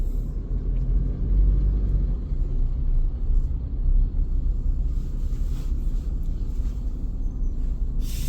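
Steady low engine rumble of congested motor traffic, heard while riding a Vespa scooter through a jam, continuous and close with no voices.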